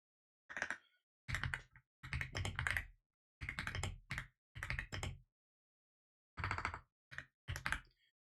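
Typing on a computer keyboard, several short clustered bursts of crisp close key clicks separated by brief silences, with no talking.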